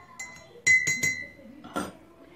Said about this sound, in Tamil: ஊற்றி நல்லா கொஞ்சம் மிக்ஸ் பண்ணிக்கலாம்.